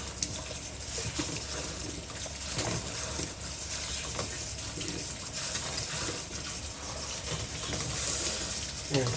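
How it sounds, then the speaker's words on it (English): Water from a tap trickles and splashes steadily over a stack of dishes in a sink during washing, a close continuous wash of running water with faint clinks, no talking. "The water trickles down and pre-rinses everything else."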